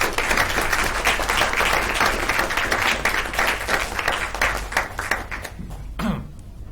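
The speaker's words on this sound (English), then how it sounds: "let's give these kids another round of applause" A room full of people at a board of education meeting applauds schoolchildren, with sustained dense clapping that gradually thins out and fades near the end.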